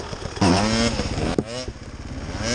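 Enduro motorcycle engine running on a trail ride in Ukraine, a loud close throbbing drone that rises and falls with throttle while riders shout over it.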